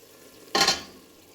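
A single brief burst of sizzle and clatter in a pan holding ground beef and onions, rising sharply and then fading away over a quiet background.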